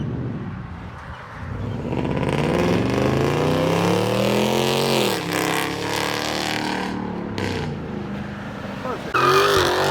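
A 2014 Dodge Ram 1500 with a HEMI V8 and straight-pipe true dual exhaust rumbles loudly and steadily up close, its engine note rising and falling through revs, with a sharp burst near the end.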